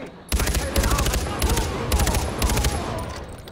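Gunfire in the video game Far Cry 4, loud sustained bursts of rapid automatic shots in repeated volleys with brief gaps between them, close and dominating the scene.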